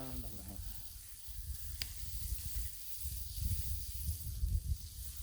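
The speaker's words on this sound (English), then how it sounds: "Let's add a little butter." Butter sizzles on a hot breakfast griddle with a soft, continuous hiss and crackle, one brief sharper pop early on, and faint background rumble.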